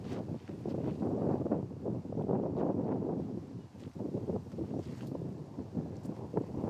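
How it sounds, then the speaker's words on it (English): Wind gusts across a golf course at a disc golf championship, a continuous rough rushing buffet on the microphone that swells and eases, no voices heard. "you're hearing the wind pick up"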